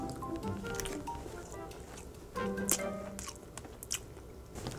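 Someone eats cheap beef short ribs up close, making soft wet chewing and squishing sounds with occasional sharper bites and smacks, quiet and with no talking.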